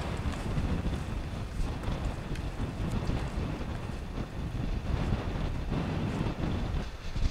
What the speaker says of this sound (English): It's pretty windy, so hopefully you can hear me.